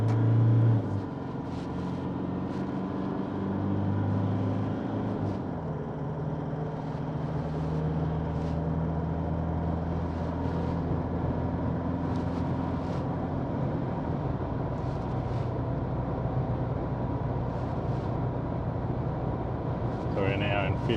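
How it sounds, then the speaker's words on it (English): An Isuzu 4JJ1 diesel with a tuned 6-speed automatic accelerates along a road, heard from inside as a steady low engine drone with a shift-like change early on and road roar throughout. "so I need to accelerate a little bit harder."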